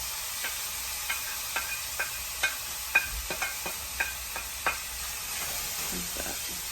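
Cabbage and carrots sizzle in a pan for a plant-based meal: a soft, constant frying hiss broken by regular light clicks of a utensil stirring, close and fairly quiet, with no voices.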